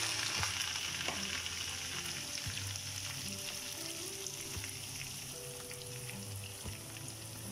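Bottle gourd frying with whole chilies in a pan, a steady, close sizzle with light crackling and an occasional stirring scrape, and no voices.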